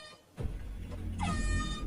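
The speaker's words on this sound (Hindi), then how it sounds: "एयर हॉर्न का मतलब है झुक जाओ।" Air horn blast from a vehicle in a Hindi-dubbed action film scene, a loud sustained blaring tone that starts abruptly and swells, with a harsh rising note near the end and a low rumble beneath.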